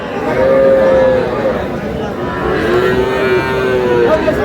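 Young calves at a rural cattle market moo in drawn-out calls, one long low moo near the start and another a couple of seconds later, close and loud over a murmur of market background.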